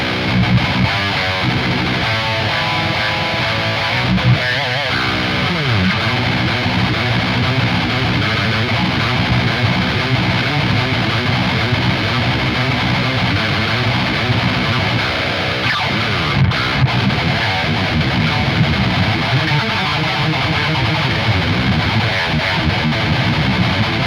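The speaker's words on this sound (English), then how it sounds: "There's a great purr to this distortion." Electric guitar played through the JST Toneforge Jeff Loomis plugin's distortion preset: loud, dense, heavily saturated riffing with sustained palm-muted chugs and ringing chords, continuous and alone.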